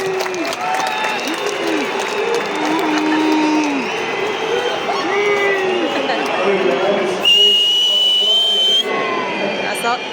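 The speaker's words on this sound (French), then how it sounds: "je vous demande d'applaudir votre nouveau numéro 7, il est là sur le terrain, Arnaud Roda" A French Ligue 1 stadium crowd at a LOSC–Monaco match applauds a new number 7 player with sustained clapping and cheering, piercing whistles rising through it, loud and near.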